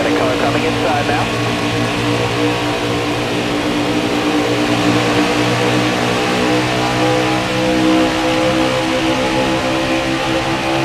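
Racing car engines roar steadily as cars pass close by, a dense mid-pitched drone that holds throughout at high volume, with a voice speaking over it.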